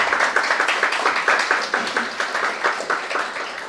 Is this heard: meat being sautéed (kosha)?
no